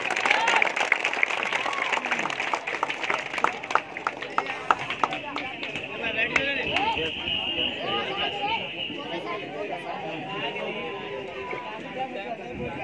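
Applause from a crowd at an August 15 gathering, dense rapid clapping that starts strong and gradually thins out, with voices murmuring underneath.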